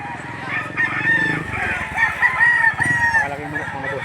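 A large rooster crows loudly and close by at a poultry sale in Lipa City, Batangas, a long strained call with clucking and faint background voices around it.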